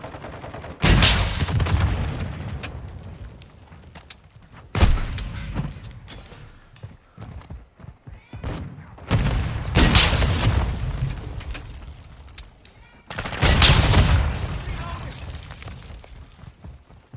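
Gunfire and explosions in Call of Duty Modern Warfare II, several heavy booming blasts at intervals with rattling shots and debris between them, fairly loud, with game voice lines in the mix.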